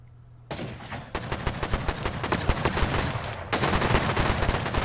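Dense automatic gunfire rattles nonstop during a night-time raid in the video game Rust, with rapid overlapping bursts that grow louder partway through and keep going to the end, close and heavy with no talking.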